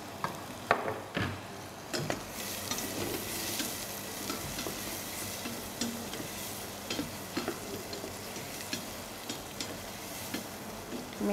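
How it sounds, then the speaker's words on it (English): Onion frying in a sauce pot with carrot, crackling steadily while a utensil stirs and scrapes in frequent clicks and knocks; no talking. "Make sure you fry also your onion together and mix in order to avoid to stick on sauce pot"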